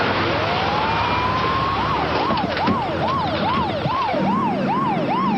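An ambulance siren wails in a steady rising-and-falling cycle over constant road noise as it drives along a road, loud and fairly close, with no voices.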